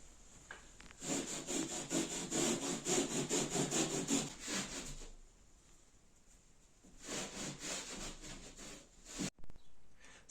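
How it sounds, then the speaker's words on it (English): Damp cloth rubbing over plasterboard seams in a hallway, giving repeated scrubbing strokes in two bursts with a quiet gap between them, fairly close and with no talk. "So now that it's been wet sanded and there's no ridges in the seams, it's time to get painting."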